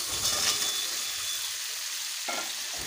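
Fried potatoes and pointed gourd tipped into hot, oil-separated masala in a pan for a Bengali aloo potol kosha, giving a loud, steady sizzle and crackle with a brief scrape or stir near the end.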